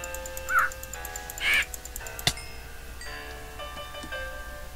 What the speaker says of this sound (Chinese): 乌鸦飞起来了，搞吗？